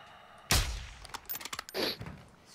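A sniper rifle in Call of Duty DMZ fires one loud sharp shot with a decaying tail, followed by fainter clatter and shuffling, with no voices.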